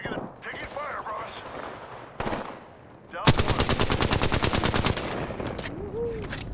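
Rapid automatic gunfire in the Apex Legends battle royale rattles in a fast, evenly spaced burst lasting a couple of seconds, loud and close, after scattered earlier shots, with game sounds around it.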